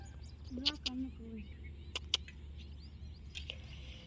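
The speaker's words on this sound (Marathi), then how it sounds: "आमच्या इकडं मैना बी बसली आहे" A myna calls in a few faint, sharp chirps and short whistles scattered over a low, steady background hum, heard from some distance.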